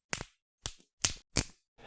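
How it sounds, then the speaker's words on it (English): Wooden sticks snap four times in quick succession, each a sharp, dry crack close to the listener, with short pauses between breaks. "Breaking wooden sticks."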